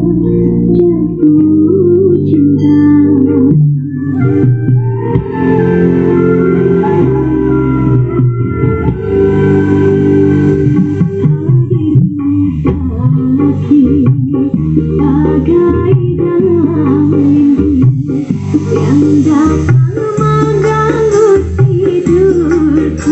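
A CLA 15-inch bass speaker on a power amplifier's channel A plays a song loudly and continuously during a test, with heavy, full low end throughout.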